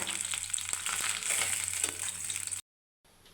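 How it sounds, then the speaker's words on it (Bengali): Tengra fish frying in hot oil in a home kitchen, a steady dense sizzle with faint clinks, running loud and even before cutting out briefly and returning softer. "মাছটা ভাজা হয়ে গেছে।"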